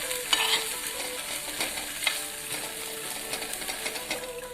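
Pav bread halves frying in a pan give a continuous sizzle, punctuated by repeated close scrapes and clinks of a spatula stirring and pressing against the metal.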